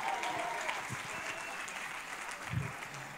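An audience applauding at a comedy show, a faint steady patter of many hands clapping at a distance, with a voice speaking over it.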